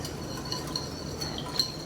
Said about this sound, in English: So again, we're gonna whisk these together